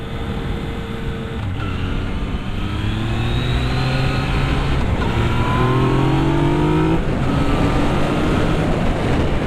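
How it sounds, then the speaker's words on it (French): A Yamaha MT-09 three-cylinder motorcycle engine revs hard and climbs through the gears, its pitch rising in repeated sweeps, loud and close throughout. "ça accélère fort, hein. Le 3 cylindres est vraiment rageur."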